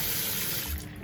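Tap water runs into a one-off walnut hand basin, a steady close hiss and splash that softens slightly toward the end.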